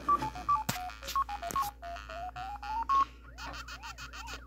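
Pac-Man start jingle from a handheld pocket player, a fast electronic run of bleeping tones followed by a rising and falling warble, loud and close with a steady low hum beneath.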